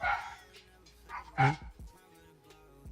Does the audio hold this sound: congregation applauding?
no